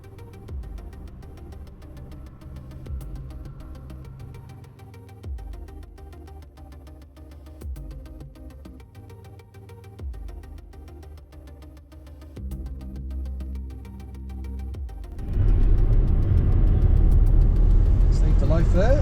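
A Rover 200 Cabriolet R8 project car drives along, its engine giving a steady low hum with small surges, then growing noticeably louder and rougher near the end.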